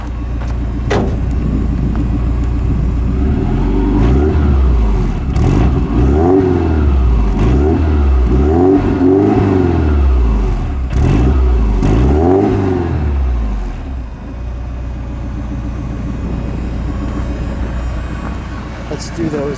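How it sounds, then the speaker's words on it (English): A 1983 Porsche 944's engine revs repeatedly through its exhaust, rising and falling in several close, loud pulls before settling back to idle, with voices talking over it. "Give me a little exhaust note."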